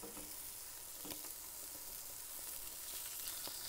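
Halloumi cheese sizzles and crackles in shallow oil as it is flipped, a dense continuous hiss with scattered pops and a few spatters, close and fairly loud.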